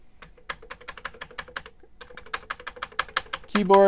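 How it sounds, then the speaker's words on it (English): Rapid, uneven clacking of keys on a Commodore 64 keyboard with slightly sticking keys, close up, tapping along steadily before a louder clatter at the end. "keys are sticking a little bit, but working it, they start to come back."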